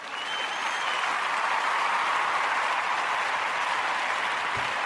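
Sustained applause from many hands, a dense, even wash of clapping that holds steady at a fairly loud level.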